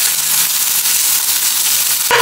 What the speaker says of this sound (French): Mais dans l'huile là, je vais mettre mes oignons et mon ail